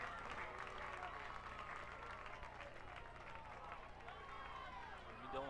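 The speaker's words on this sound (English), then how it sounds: "He gets a nice round of applause from the Braves fans." Fans at a 2004 high school football game between Indian Hill and Taylor applaud as an injured player walks off to the sideline, a steady distant crowd clapping under an announcer's continuous commentary.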